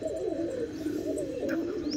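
Pigeons cooing in a domestic loft, soft repeated low coos close by over a continuous background murmur.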